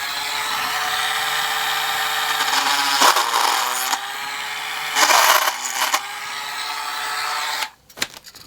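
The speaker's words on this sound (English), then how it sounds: "that hole is too small, so we'll try it with this drill" A small drill whirs in short bursts while enlarging a hole in the footplate of a DJH 2MT 2-6-0 model locomotive kit, with two louder grinding spells as the bit bites and a clatter at the end.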